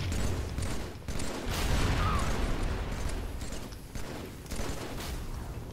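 Gunfire in the video game Halo 3, a loud, sustained barrage of shots and rattling weapon mechanisms with booming battle noise, no clear talk.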